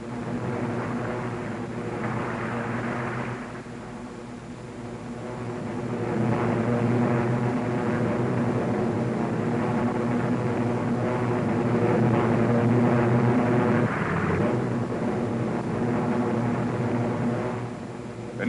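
WWII carrier aircraft propeller engines drone steadily near an aircraft carrier in the Pacific, a continuous loud hum that swells slightly partway through.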